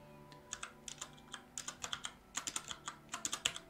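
Keys clack on a computer keyboard in an irregular run of quick, quiet taps and short bursts, close by, with no talking.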